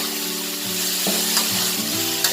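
Sliced okra frying in a pan for a Bangladeshi bhaji, loud close sizzling with a few scrapes and clanks of a spatula as it is stirred, no voices.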